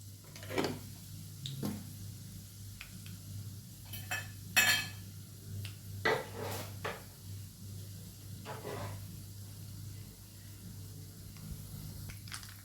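Cumin seeds spluttering in hot oil while a breakfast dish is cooked, giving scattered sharp pops and crackles over a steady low hum, with a few louder bursts near the start and sparser pops later.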